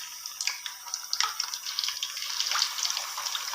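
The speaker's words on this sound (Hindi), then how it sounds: "कुकिंग ऑयल हमारा गर्म हो चुका है। अब मैं इसमें चिकन को ऐड करूँगा" Chicken pieces go into hot cooking oil in a wok and sizzle, a bright, hissing crackle with scattered pops that builds and stays fairly quiet, with no voices.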